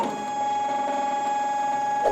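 Embroidery machines set up for appliqué run with a steady, whirring electronic hum and faint tonal whine, close and continuous, with no talking over it.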